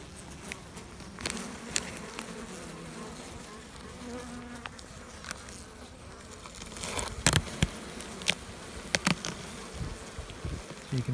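A honey bee colony in a hive feeding on a patty gives off a steady, soft buzzing drone, with occasional close clicks and taps over it.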